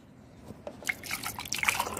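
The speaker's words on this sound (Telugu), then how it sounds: "ఫుల్ వాటర్ వేసేయండి" Water is poured into a glass holding broom sticks set out to regrow, giving a soft trickle and light dripping that builds over the last second, close and quiet, with no voices.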